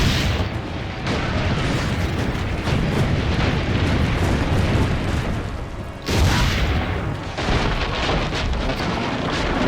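Cannon fire and explosions rumble in the video game Assassin's Creed Brotherhood, a dense continuous roar of booms that swells, dips briefly and surges again, loud and close throughout.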